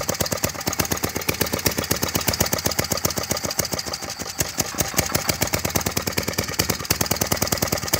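A Dolphin bike's small engine idles after a tune-up with carburetor and intake manifold work, firing in a rapid, even putter that stays close and steady throughout with no talk.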